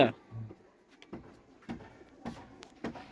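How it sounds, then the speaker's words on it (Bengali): A male pigeon coos in soft, low, repeated pulses, close by, with faint background noise and a brief sharp sound at the start. "এই হচ্ছে নর কবুতরটা"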